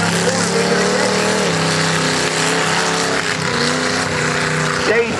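Mud trucks race at Bubbas Mud Ranch, engines holding a loud, steady roar with shifting pitch throughout, a brief surge near the end, and a voice commentating faintly underneath.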